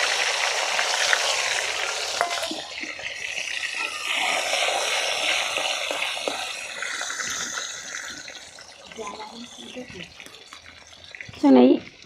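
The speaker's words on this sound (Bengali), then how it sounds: "এবারে ভাজবো এটা লাল লাল করে।" Small salted, turmeric-coated cauliflower pieces frying in hot oil give a steady, close hiss and crackle that eases off partway through. A voice speaks over it, and a brief brighter tone sounds near the end.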